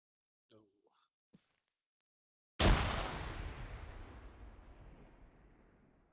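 A frag grenade from a video game, thrown with a brief voice and a small click, then after a pause a single loud, close blast that decays into a long rumbling tail over several seconds.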